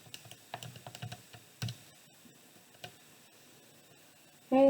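Quick, light keystrokes tap out numbers on a computer keyboard, a cluster of close clicks followed by a few scattered presses in a quiet room.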